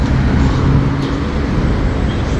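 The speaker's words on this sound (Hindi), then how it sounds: "कारें गोली की स्पीड से गुज़र रही हैं भाई साहब" Cars race past on a road in Saudi Arabia, a loud, steady rushing roar of fast traffic with no clear gaps, heard up close.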